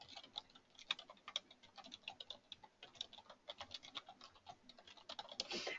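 Very quiet typing on a computer keyboard, with irregular light clicks and taps of the keys close by and no talk.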